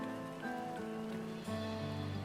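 Faint rain pattering in the video game Final Fantasy XIV: Dawntrail, a quiet steady wash under held musical chords from the game's score.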